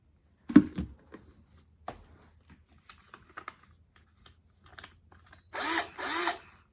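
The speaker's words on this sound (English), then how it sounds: "I can drill holes at the bottom, and these will be my pepper containers" A power drill bores holes into the bottom of plastic containers, with scattered handling clicks and knocks followed by two short, close whirring bursts of drilling near the end.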